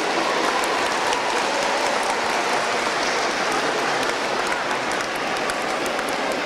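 A gathering of children and adults at a diocesan youth oratory day in Assisi breaks into continuous applause, a thick, even wash of clapping that holds steady throughout.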